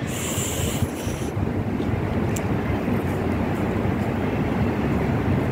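Cold wind blows hard outdoors in a snowy setting, roaring and buffeting the microphone in a continuous low rumble with no voices.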